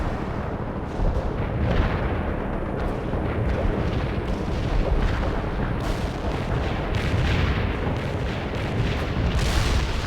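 Artillery barrage in the video game World in Conflict, Soviet assault mission: a continuous rumbling wall of heavy booms and distant blasts rolling on for ten seconds, with sharper crackling impacts breaking through near the end.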